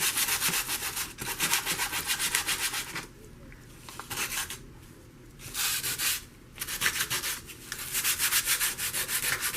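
Sandpaper rubbed by hand over a flea-market wooden name plate or frame, a steady rhythmic scratching in close strokes with a few brief pauses, no talking.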